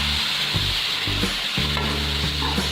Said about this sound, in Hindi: ताकि मसाला अच्छी तरह भुन जाए।